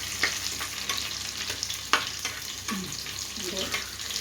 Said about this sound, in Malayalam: ഇഞ്ചിയും വെളുത്തുള്ളി ഇട്ടിട്ടുണ്ട്. അതൊന്ന് മുരിഞ്ഞ് വരട്ടെ, ലൈറ്റ് കളറാവട്ടെ.